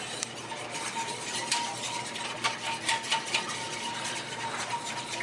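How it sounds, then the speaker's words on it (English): A whisk beats milk and flour together in a bowl for orange dreamsicle pie, making a busy, close rattling swish with quick irregular strokes and a few sharper clicks. "We're going to whisk this together so we get the lumps out of it."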